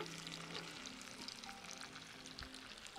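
Swordfish frying in a hot pan gives a steady, close sizzle and crackle that holds at an even level throughout, with no voices over it.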